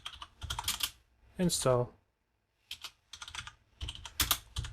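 Someone types a command on a computer keyboard while installing an FTP server on a Raspberry Pi. Close, quiet bursts of key clicks come between short stretches of speech.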